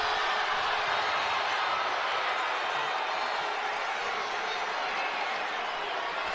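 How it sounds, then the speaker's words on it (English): An excited crowd at a girls' high school championship basketball game fills the gym with a constant, bright wash of cheering and chatter, steady and loud for the whole stretch without any single standout shout. "Some of the folks are excited here in the crowd"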